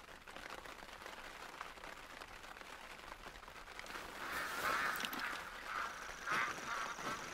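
Ducks in the hunting game theHunter: Call of the Wild at Layton Lake, honking quacks rising from a distance over a soft rain-like wash, growing busier in the second half.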